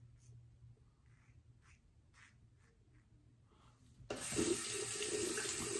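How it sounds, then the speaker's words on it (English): After a few quiet seconds of light handling noises, a tap suddenly gushes in a loud, steady stream as water rinses a Lambda Athena safety razor. "The rinsing of the Athena is very cool though."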